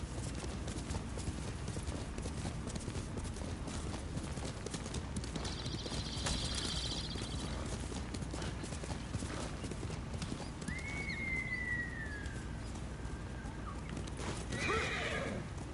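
A galloping horse's hooves clip-clop steadily under a dense ambient game soundscape in Ghost of Tsushima, with a neigh rising partway through and a faint bird call later.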